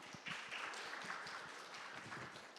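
Audience applause welcoming a speaker at a data conference in Korea, a faint, fairly thin patter of clapping that continues steadily across the clip from a modest crowd.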